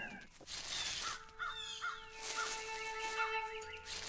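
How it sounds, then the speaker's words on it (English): Several crows caw repeatedly in the distance, harsh calls overlapping against a steady outdoor background hiss. "Hear the crows back."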